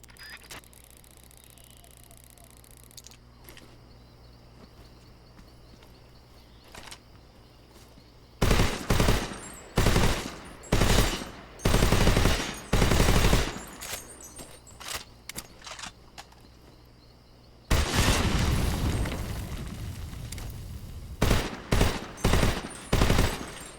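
Assault rifle fire in Metal Gear Solid 3: Snake Eater, an AK-47-style weapon firing loud rapid bursts, several short volleys separated by brief pauses, then a long sustained burst followed by more short bursts, after a quiet stretch of low ambience.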